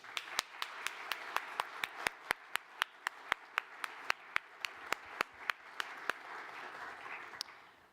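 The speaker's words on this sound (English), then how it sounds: "a big round of applause for each of you" Sparse, evenly spaced single claps from a small audience at a law society gathering, quiet and somewhat distant, roughly three or four sharp claps per second with little else underneath.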